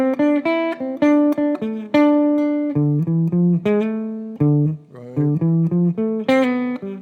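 Jazz guitar runs up and down a D Dorian scale in a steady stream of clean, evenly picked single notes, close and fairly loud, with no voices.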